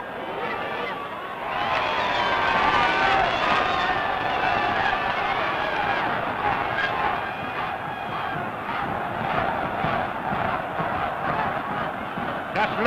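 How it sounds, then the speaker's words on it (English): A large South African rugby crowd at a Cape Town stadium on a national holiday cheers for the Springboks against the British Lions in 1980, a dense, sustained roar with shouts and whistles swelling after a quieter start. "Just look at that South African crowd on a national holiday, cheering for the Springboks"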